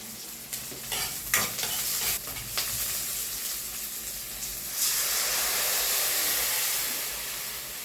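Malunggay leaves dropped into hot oil in a pan, a loud steady sizzle with stirring scrapes and bursts of hissing steam, swelling louder in the second half.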